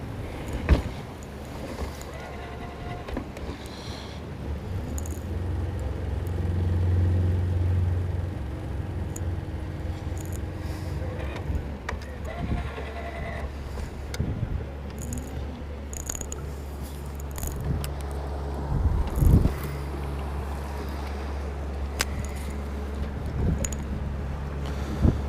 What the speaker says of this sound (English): I just cannot believe how crazy this wind is right now.